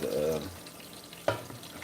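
Olive oil sizzles faintly in a pan on medium heat under a brief voice at the start, with a soft clatter partway through.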